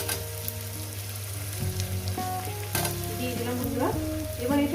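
Chopped potatoes and onions frying with small mourala fish in a pan make a continuous, even sizzle, with faint melodic tones running underneath and no voices.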